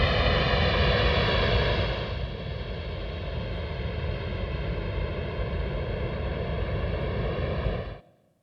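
Simulated flyover of a blended wing body aircraft, designed to be quieter than current airliners: a steady broadband roar with a tonal hum, easing slightly after two seconds and holding level before cutting off abruptly near the end, no talk.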